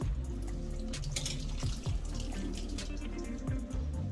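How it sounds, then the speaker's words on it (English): Tap water running steadily into a kitchen sink while a spoon is rinsed, a close continuous splashing with occasional clinks and bumps of the spoon, and no voices. "Let me rinse this spoon off."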